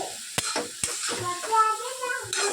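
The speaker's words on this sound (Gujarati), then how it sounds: "સરસ બધું આપણે મિક્સ કરી દઈએ." Ingredients for an instant mango pickle stirred together in a bowl, close scraping and wet mixing clatter with a couple of sharp taps from the spoon.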